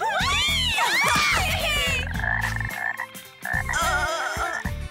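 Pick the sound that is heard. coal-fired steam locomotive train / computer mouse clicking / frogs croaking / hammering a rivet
frogs croaking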